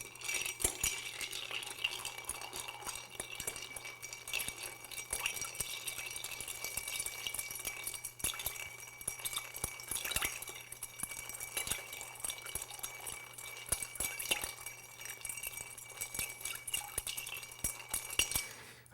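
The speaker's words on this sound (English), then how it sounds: "Add our ice and stir." Ice clinks and rattles against glass as a Casino cocktail is stirred, a soft, continuous jingle close by with no talk.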